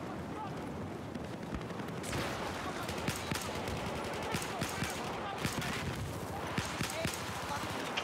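Suppressed MK11 marksman rifle fire in Battlefield 4, a run of sharp, evenly spaced shots cracking over a continuous backdrop of distant battlefield gunfire and explosions.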